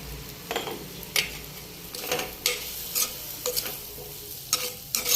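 Leftover chicken curry being turned into Kerala-style chicken roast, its spiced masala stirred and sautéed in a pan: a steady sizzle broken by about ten sharp spatula scrapes and clinks against the pan, with no talk.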